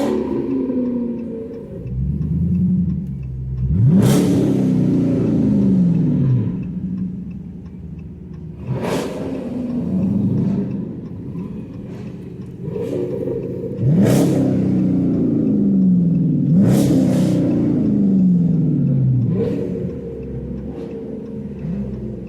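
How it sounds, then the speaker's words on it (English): A Dodge Hellcat engine at a car show is revved repeatedly, with several sharp throttle blips that each rise and fall in roughly five-second bursts, loud and close over a rumbling idle. "Rev that Hellcat thing up."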